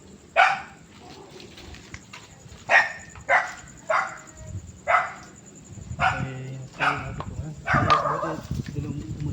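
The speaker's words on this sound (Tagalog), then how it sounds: "ingay kasi ng aso mga boss." Dogs barking at night, a string of sharp barks and yips spaced about a second apart, moderately near, with some rustling and movement between barks.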